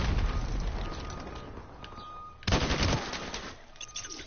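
Dense automatic gunfire with grenade-launcher fire in a first-person shooter match, a loud continuous barrage that breaks into a sharp burst of blasts midway and then settles back into rapid shots.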